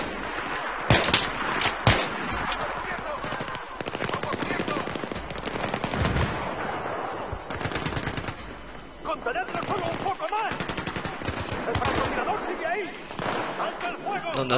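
Rapid automatic gunfire and scattered shots in the Battlefield 3 video game, dense and loud throughout with bursts and brief lulls, while players talk over the battle.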